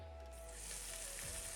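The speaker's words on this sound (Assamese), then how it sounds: "এতিয়া একেখিনি তেলতে মই পিঁয়াজ আৰু জলকীয়া দুটামান কাটি দি দিছোঁ। এইখিনি ভাজি ল'ম।" Onion and green chili frying in oil left over from shallow-frying fish, a steady close sizzle that continues alone without pause.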